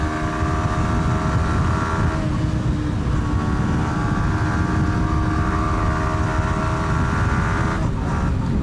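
A small 125cc Yamaha motorcycle engine drones steadily and loud throughout on road and track, with pitch shifting as it revs and changes gear.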